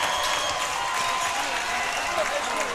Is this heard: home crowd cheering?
yes